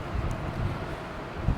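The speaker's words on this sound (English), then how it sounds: "it is quite windy though" Strong wind buffets the microphone in gusty low rumbles outdoors at Hudson Yards in Midtown Manhattan at night, with no talking.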